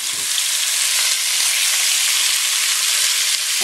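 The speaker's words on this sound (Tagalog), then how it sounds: "Okay, i-fry natin dito itong pork." Pork frying in a pan for pochero gives a steady, loud, close sizzle with a dense crackling hiss that holds evenly throughout, with no voices.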